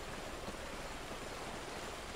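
A stream flowing in the video game Call of Duty: Ghosts, a steady, even rush of water that stays constant and close throughout, with no voices over it.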